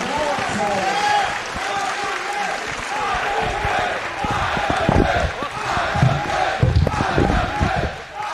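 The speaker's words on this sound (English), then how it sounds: "the crowd breaks out into an IWA chant" A wrestling crowd at an IWA Mid-South King of the Deathmatches 2006 show chants IWA in rhythmic unison, with clapping and cheering swelling loudly around the ring.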